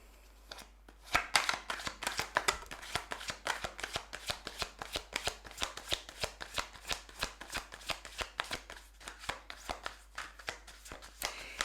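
A well-worn deck of Shozen Tarot cards is shuffled by hand, producing a long, rapid run of crisp riffling clicks close up in a quiet room.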